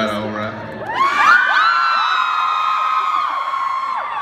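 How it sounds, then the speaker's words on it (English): A lively concert crowd in Denver cheers, with high whoops and shrieks swelling after a brief pause and then holding as a steady, dense roar. "The lively crowd, sir."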